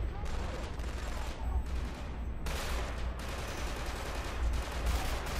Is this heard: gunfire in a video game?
yes